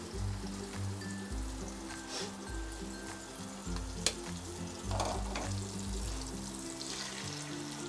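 Tomatoes stirred and fried in a pan for egg rice, a soft continuous sizzle with occasional spatula scrapes under rhythmic background music.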